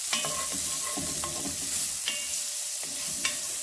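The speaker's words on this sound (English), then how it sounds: "this I just want to mix around so that the shallot starts to soften" Shallots with a pinch of salt, thyme and bay leaf sizzle steadily in a pan while being stirred, with scraping clicks of the spoon against the pan.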